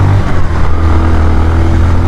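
A Bajaj Pulsar motorcycle with 28,000 km on it runs close by with a steady, loud engine drone and slight throttle swells throughout, with no talking.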